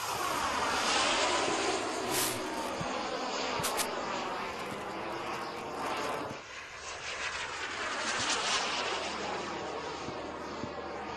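A small aircraft, likely a remote-controlled model, drones steadily overhead with a continuous engine whine that rises and falls slightly as it passes, fairly loud and with no talk over it.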